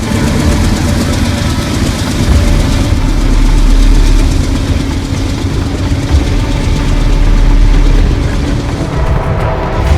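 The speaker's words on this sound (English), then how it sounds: "A freight train rolls by with a blown turbo, meaning the engine's turbocharger is damaged" A freight train locomotive with a blown, damaged turbocharger rolls past, giving a loud, steady low rumble and roar that swells around the middle and again near the end, with no voices.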